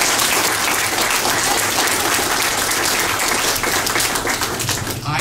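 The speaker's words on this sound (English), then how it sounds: "yes, you can clap." Loud, dense applause from a crowd at a political rally, a continuous wash of many hands clapping close by that holds steady and dips only slightly at the end.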